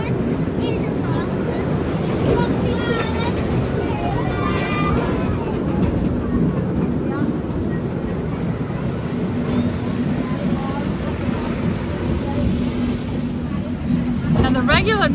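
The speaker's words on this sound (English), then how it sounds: "Yep, that's the log flume." A log flume water ride at Europa Park rushes with steady water noise beneath nearby crowd chatter and voices, a dense continuous wash of splashing and flowing water throughout.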